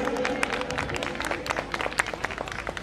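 A crowd at a Holi Milan gathering breaks into loud applause, many close, crisp hand claps running continuously, with a faint voice beneath.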